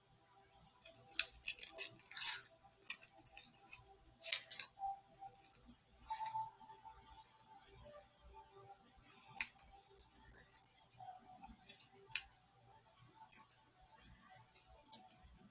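Scissors snip out a picture from a magazine in a quiet room, with repeated short cuts coming in irregular bursts, close to the mic and fairly soft.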